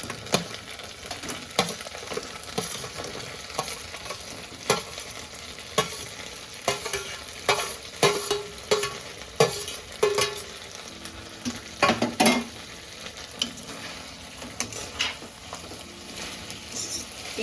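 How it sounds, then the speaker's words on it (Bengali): Chicken pieces tipped into a hot pan for chicken 65, sizzling and frying steadily while being stirred, with repeated scraping and clattering strokes standing out over the constant crackle. "এবার চিকেনগুলো ঢেলে দিচ্ছি।"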